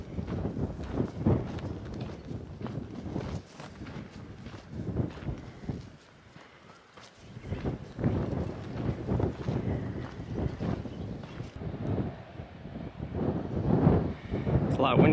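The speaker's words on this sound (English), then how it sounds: "It's a lot windier on this side of the hills. And the wind chill is freezing cold." Gusty wind buffets the microphone on a hillside of the Pacific Crest Trail, loud rumbling surges that dip briefly and then return, with footsteps and a voice speaking underneath.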